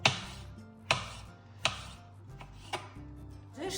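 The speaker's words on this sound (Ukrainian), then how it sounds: "теж нарізаю ось так слайсами і на ось такі смужки" A knife chops crisply onto a cutting board, slicing vegetables into strips for a salad, about five distinct cuts at an uneven, unhurried pace, close up with no talking.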